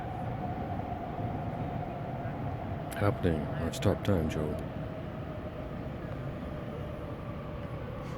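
A train passing by, heard as a steady, continuous rumble with a faint sustained whine that lasts the whole stretch, while people talk briefly in the middle.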